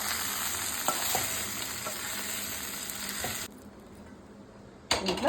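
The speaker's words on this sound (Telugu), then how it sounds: "దొండకాయలు ఈ కలర్ వచ్చే వరకు వేయించుకోవాలండి" Ivy gourds fry in hot oil with a continuous crackling sizzle and occasional stirring scrapes, cutting away abruptly partway through before the sizzle briefly returns.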